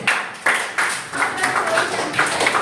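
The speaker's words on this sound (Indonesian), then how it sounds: "Oke, sekarang tepuk tangan untuk kami." A classroom of students claps hands, a few loud bursts followed by looser, scattered clapping at close range in the room.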